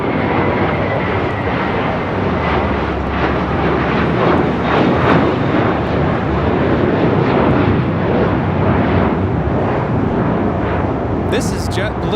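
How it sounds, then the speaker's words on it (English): A JetBlue Airbus A321 airliner taking off from LAX bound for Newark: a loud, sustained jet engine roar that swells and rumbles throughout, heard from a spotting position. "This is JetBlue 1874 taking off to Newark on an A321."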